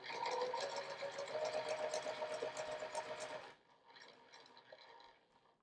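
A sewing machine stitches a quilt with a steady, busy mechanical whir for about three and a half seconds, then drops to a softer, sparser clatter until the end.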